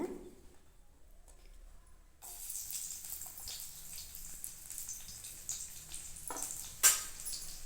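Ginger and garlic sizzle in hot oil with cinnamon and cloves, a steady close frying hiss starting after a quiet moment, with a brief clatter of stirring near the end.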